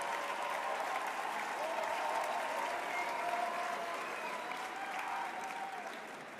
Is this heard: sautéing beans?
no